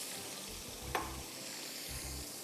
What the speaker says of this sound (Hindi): अब इसी में आप डालेंगे पनीर के क्यूब्स, ठीक है, और इसको आप फ्राई करेंगे।